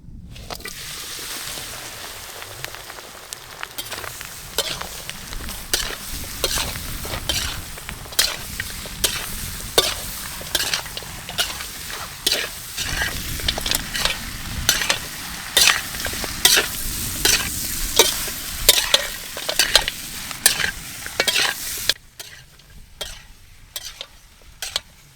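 Country rooster pieces coated in salt and masala frying in hot oil, a loud steady sizzle with repeated stirring scrapes and clatter throughout, stopping abruptly near the end; no one speaks.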